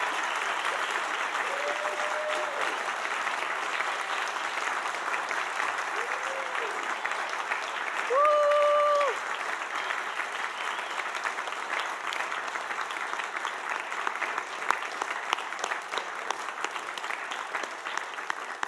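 A commencement audience applauds through the whole stretch, steady clapping from a large crowd with a few whistles partway through.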